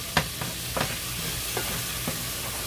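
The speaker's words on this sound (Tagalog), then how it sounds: "Then mix it together here." A spoon stirs tomato sauce through burrito filling in a pan, giving a few scraping knocks over a steady low sizzle, with no talking.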